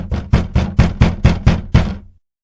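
Police pound on the front door of a house on Fairview Avenue: eight loud, evenly spaced knocks in quick succession, close and heavy, then silence.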